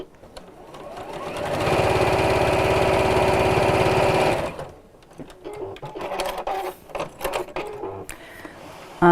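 A sewing machine stitches along lined-up fabric edges for a drawstring pouch, a steady loud whirring run of about three seconds, then fainter handling clicks and rustles after it stops.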